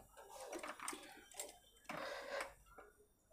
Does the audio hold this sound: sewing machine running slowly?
yes